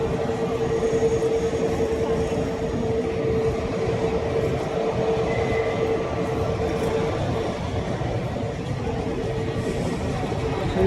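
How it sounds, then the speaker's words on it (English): A Vistara passenger jet taxis at Chennai airport after landing, its engines making a loud, sustained low rumble with a faint steady whine, unbroken for the whole stretch. "The Vistara flight is probably moving towards the international terminal post arrival"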